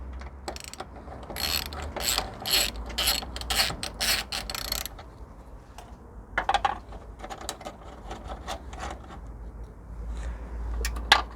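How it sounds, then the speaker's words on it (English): Ratchet wrench undoing a 12mm bolt and nut on a Mitsubishi 3000GT during air-conditioning work: rapid bursts of close, crisp clicking in quick repeated strokes, pausing and then resuming, with no talking. "You're going to undo this bolt here. you're going to remove this nut here."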